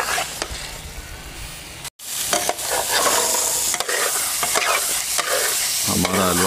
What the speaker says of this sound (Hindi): चीनी को हम मेल्ट करेंगे और थोड़ा सा इसको भूनेंगे